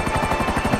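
Steady rotor chop from a helicopter in GTA V Online, a fast, even thudding pulse with a constant engine whine, loud and close, with no voices.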